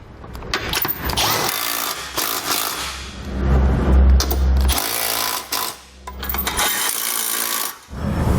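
A hand tool tightens the bolts of an etrailer trailer hitch receiver on a 2018 Toyota, giving repeated ratcheting and rubbing metal sounds in close bursts with brief pauses, and no talk.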